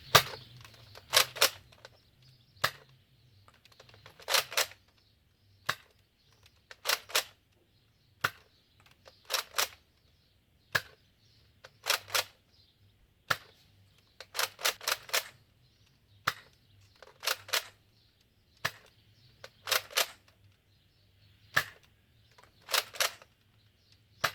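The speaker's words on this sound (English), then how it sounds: "after firing the Raptor Strike, the lowest one's there" Nerf sniper-style blasters, including a Fortnite BASR-L bolt-action and a Raptor Strike, fire foam darts in a series of sharp, close snaps, each shot often paired with a bolt or priming clack, spaced irregularly with quiet gaps between.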